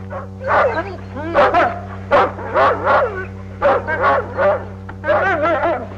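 Several dogs bark and yip excitedly in rapid, repeated bursts, close by, over a steady low hum.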